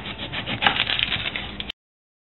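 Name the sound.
knife chopping onion into fine pieces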